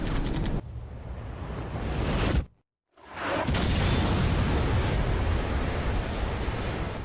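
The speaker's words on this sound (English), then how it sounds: "We've been hit by 2 sub-launch missiles." Missiles explode against a ship in Ace Combat 5. A roaring blast fills the opening seconds, then cuts to a brief silence, and a second heavy rumbling explosion follows and sustains to the end.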